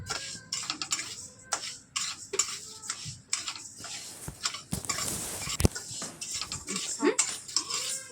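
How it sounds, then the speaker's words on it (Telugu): Uncooked rice being dry-roasted in a kadai on the stove, giving off scattered light ticks and scraping clinks of a spoon stirring against the metal pan, close by, with a voice talking in between. "ఒక కడాయిలో బియ్యాన్ని వేయించుకుంటున్నాను."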